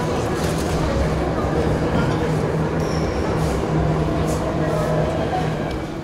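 Jakarta MRT subway train riding underground in Indonesia, a steady loud rumble of wheels and motors with a low hum throughout and faint higher squeals, voices murmuring underneath.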